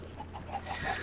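Minecraft chickens cluck in short soft bursts, a few quick game-animal calls at moderate distance over a faint background hum.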